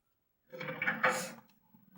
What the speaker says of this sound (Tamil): இந்த கதவு ஓப்பன் ஆகிடுச்சோ,